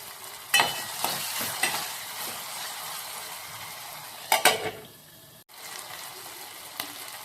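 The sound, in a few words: tomatoes frying in a pan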